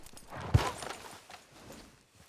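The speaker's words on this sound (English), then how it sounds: "Bunch of horses" Horses in Red Dead Redemption 2 give a short, close clatter of hooves: one sharp strike stands out, followed by a few softer steps fading away, with no talking.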